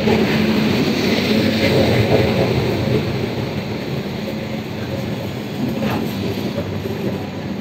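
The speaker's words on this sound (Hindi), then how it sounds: "बस ट्रेन अभी आने वाली है, तो वेट करते हैं ट्रेन का" A train at a railway station, heard as a broad, steady rumble of rolling carriages throughout, fairly loud and close, easing slightly midway.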